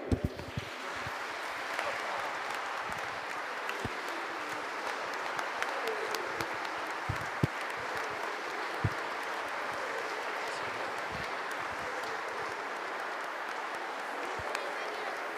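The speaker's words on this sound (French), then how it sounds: "Nous allons l'applaudir très fort." A church congregation applauds a newly baptized child during Sunday Mass, a sustained, even wash of clapping lasting many seconds at moderate distance, with a few sharper claps standing out.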